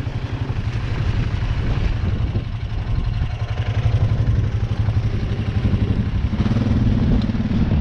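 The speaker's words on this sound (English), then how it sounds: "Give it a little gas." A Kayo Bull 150 ATV engine runs with a steady low throb, its throttle rising and swelling louder toward the end, close by and alone with no talk.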